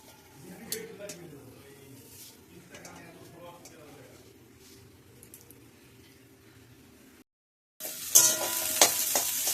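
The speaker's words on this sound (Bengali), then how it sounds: "তাই ভাবলাম ওই পাঁপড়ের সাথে এই পাঁপড় দুটো ভেজে নিই" Papad frying in very hot oil: after a stretch of quiet talk and low background sound, a brief pause gives way to a loud, bright crackling sizzle that bursts up and keeps spitting to the end.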